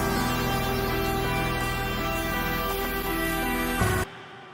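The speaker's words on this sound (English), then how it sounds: "octaves and a Steinway piano to cut through" Bright Steinway piano playing octaves within a full song section produced in Logic, sustained and dense against the mix for about four seconds before cutting off abruptly into near silence.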